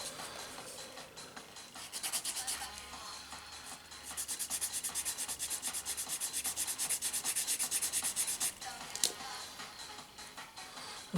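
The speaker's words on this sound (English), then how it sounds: "you need a sanding stick like this." Steady abrasive rubbing of a sanding stick on a Warhammer 40k miniature, back-and-forth strokes growing louder and more continuous midway, close up with no voices.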